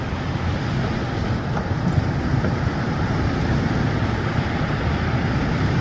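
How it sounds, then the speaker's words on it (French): Strong wind at the top of a tower, a steady, dense roar of gusting air that rushes and buffets continuously, loud and enveloping with no voices. "Le vent était devenu plus fort."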